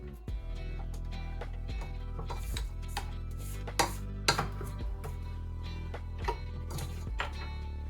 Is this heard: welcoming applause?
no